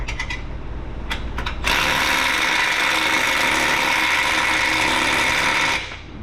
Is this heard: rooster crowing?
no